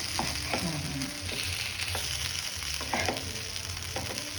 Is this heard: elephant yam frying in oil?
yes